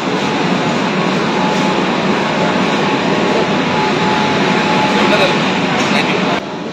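Loud, steady rumble of a Kolkata underwater metro train at Howrah Maidan station, with broad roaring noise throughout and a crowd murmuring faintly beneath it.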